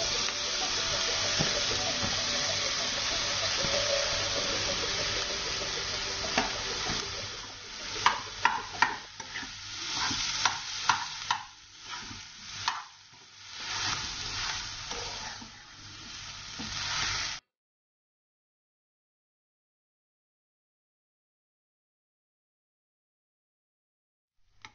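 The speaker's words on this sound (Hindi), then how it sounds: "मसालों को हल्का सा भुनेंगे और इसमें पोटैटो डाल देंगे सारे।" Spices and potato stuffing fry in a pan with a steady, close sizzle and repeated scraping stirs, then the sound cuts off abruptly into silence.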